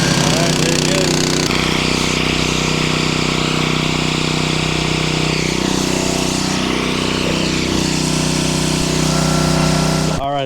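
A motor-driven water pump runs loud and steady, filling a tank with a constant droning engine hum, and someone speaks over it partway through.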